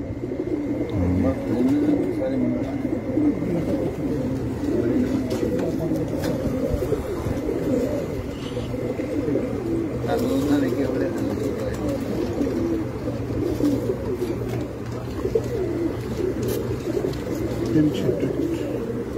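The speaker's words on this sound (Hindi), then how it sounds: "तो माशाल्लाह बहुत अच्छा कबूतर है" Pet racing pigeons cooing on a rooftop loft, a dense, continuous murmur of deep coos from several birds close by, with someone talking over them.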